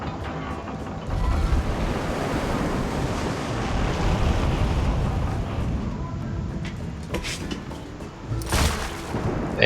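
Sea waves and wind washing around a tiny island in the middle of the sea in Assassin's Creed Revelations, a steady broad surf rush with gusty swells and a few brighter splashes near the end.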